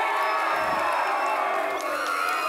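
A live-show audience cheers and whoops in a brief, dense burst of crowd noise, loud and sustained.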